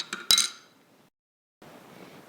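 A spoon stirs a homemade soda mixture with lemon juice in a glass, giving a few quick, bright clinks close up. A short silence follows, then a soft, steady hiss.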